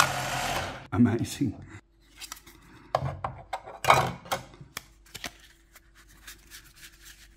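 A short mechanical whir and riffle of cards being shuffled by a battery-operated two-deck automatic card shuffler, with clicks and handling noises, and a person speaking briefly.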